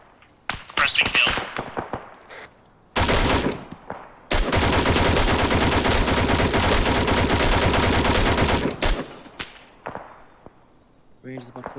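Machine gun fire on a training exercise, with scattered sharp single shots giving way to two long, loud sustained bursts of rapid automatic fire, then more isolated cracks as it trails off.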